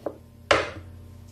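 A blade chops through dough while shaping a goldfish-style steamed bun, giving a soft knock followed by a sharper, louder chop, close and alone.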